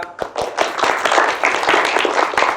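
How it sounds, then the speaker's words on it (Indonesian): Classroom students applauding a classmate, a short burst of brisk, fairly close hand claps, rhythmic and slightly uneven, with no talking over it. "Tepuk tangan untuk Mas Lintang"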